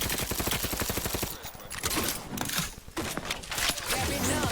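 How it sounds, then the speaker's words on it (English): Rapid bursts of automatic gunfire from the video game The Outer Worlds 2 rattle loud and dense, with short pauses between volleys and a steady stream of shots near the end. "Target analyzed. Lay down fire."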